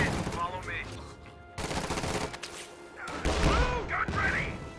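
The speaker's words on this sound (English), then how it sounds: "that barrage fired into this telephone pole and didn't make it to its target" An M8A1 howitzer motor carriage fires a barrage in a video game, producing a dense run of booming blasts and crashing impacts layered over continuous game noise.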